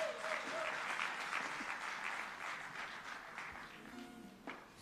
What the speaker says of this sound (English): please can we give her a round of applause